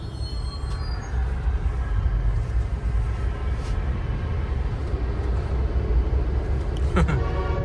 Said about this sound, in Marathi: बोगद्यात झाली ट्रॉफिक जाम.